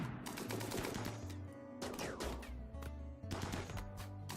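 Colonists in the Rimworld video game firing at insect hives during an infestation: rapid volleys of gunshots in bursts, pausing briefly between them, set over a steady game music bed.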